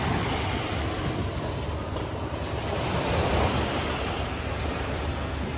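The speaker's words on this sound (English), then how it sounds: "This little slice of paradise here is called Mushroom Bay Beach on Nusa Lembongan" Ocean waves wash steadily onto Mushroom Bay Beach on Nusa Lembongan, a soft continuous surf hiss mixed with light wind rumble on the microphone and no voices.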